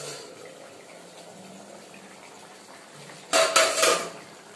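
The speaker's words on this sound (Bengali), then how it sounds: "চলুন গাইস ঢাকনাটা তুলে ফেলি" A lid lifted off a pot of simmering curry with fritters, a sudden clatter of metal near the end after a quiet stretch of low kitchen noise.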